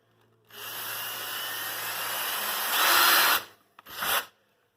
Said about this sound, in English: find a drill the same diameter and drill a hole here and here